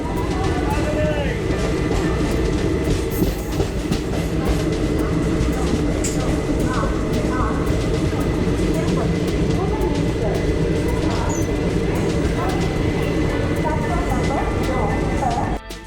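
A passenger train runs through Eluru station without stopping, a loud, continuous rumble and clatter of the train heard from on board, with a voice talking over it.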